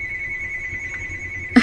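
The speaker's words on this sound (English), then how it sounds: "we tried to, like, get rid of the phone because I know you guys can hear it" A phone rings with steady electronic tones sustained across the whole stretch, ending in a short sharp clatter; no one speaks over it.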